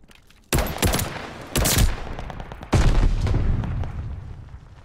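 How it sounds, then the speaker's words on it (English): Shots crack out in Call of Duty: Vanguard: a few loud gunfire bursts in quick succession, then a heavier grenade blast that rumbles and slowly fades, with no talking over it. "Tossing grenade!"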